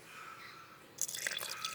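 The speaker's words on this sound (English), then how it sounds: "I'm gonna add water," Water is poured into a blender holding blended bitter leaf for Nigerian soup, a short close splashing burst following a quiet lead-in.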